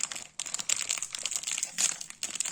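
A crinkly plastic snack bag of new cheese-flavoured snacks is torn open up close, giving bursts of sharp crackling and rustling over about two and a half seconds.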